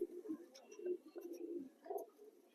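Soft, low cooing of pigeons kept in a bamboo cage, a steady murmuring coo that continues close by with faint background bird chirps and no talk.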